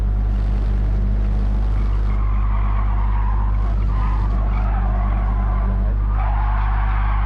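A stock Subaru 22B racing car in Gran Turismo 7 roars at a steady, loud engine drone, with tires skidding and squealing through corners over a constant low rumble and no voices.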